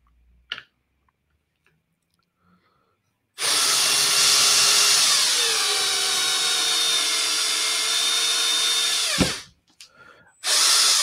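A small handheld power drill whirs steadily for about six seconds as it bores into a piece of acrylic, the pitch dropping as it bites, then stops and briefly restarts.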